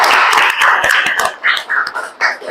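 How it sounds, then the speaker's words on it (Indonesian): Audience applause in an Indonesian teaching session: a dense wash of many hands clapping, loud and close, with a few sharper individual claps near the end as the applause thins out. "Tepuk tangan ya untuk teman kalian."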